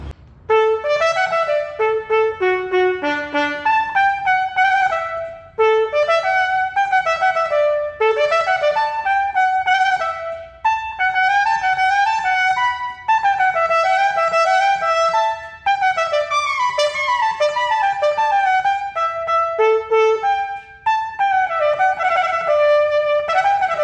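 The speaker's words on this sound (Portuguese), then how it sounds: "E esse é o som do bocal." Lead trumpet played through a lead mouthpiece, a bright solo line of quick articulated phrases and sustained high notes, loud and close, with short breaths between phrases and no accompaniment.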